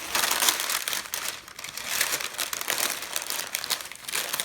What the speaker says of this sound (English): I'm going to place this extra piece of parchment paper over the top, and I'm going to fold the flaps in